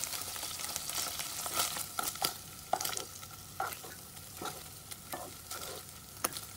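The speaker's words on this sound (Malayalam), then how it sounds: "അടിഭാഗം ഒന്ന് ഫ്രൈ ആയി വരുമ്പോൾ നമുക്കിതിനെ തിരിച്ചിടാം." Feta cheese frying in a pan, a steady bright sizzle broken by repeated scraping and clinking from stirring or turning, close and moderately loud, with no talking.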